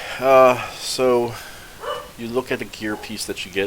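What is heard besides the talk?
dog barking in the background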